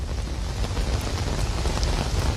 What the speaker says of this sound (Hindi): जहां पर अभी भी झमाझम बारिश हो रही है